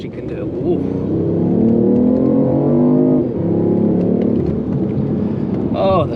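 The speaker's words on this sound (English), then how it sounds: "Oh, the sound of this car is definitely intoxicating." A BMW i8 hybrid supercar accelerates along a freeway, its engine a steady, rising harmonic drone heard up close from inside the cabin, with a brief dip in pitch partway through like a gear change before it climbs again.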